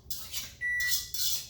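An oven timer gives its one-minute warning as three short, bright beeps in quick succession, fairly close and clear over a quiet kitchen background.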